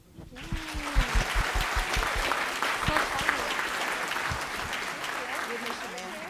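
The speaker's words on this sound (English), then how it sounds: "one last round of applause, please" A crowd claps steadily in sustained applause, with a few voices and cheers mixed in beneath the dense clapping.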